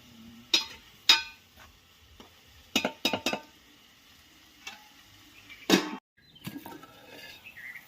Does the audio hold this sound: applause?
no